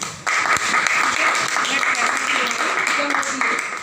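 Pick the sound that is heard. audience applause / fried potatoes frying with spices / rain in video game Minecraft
audience applause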